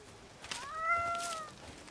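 A cat in an Indiana Jones video game gives one drawn-out, rising and falling meow, fairly close and clear over faint background noise.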